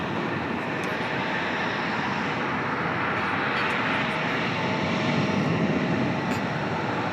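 An airliner on approach to land at Dulles airport, a continuous loud broadband engine roar that holds steady throughout and swells slightly near the end.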